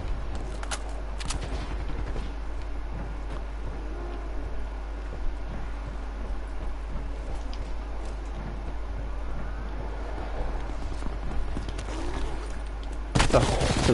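Gunfire crackles through a Call of Duty Black Ops 4 Blackout match, with scattered shots and short bursts over a steady low hum, some louder shots near the end.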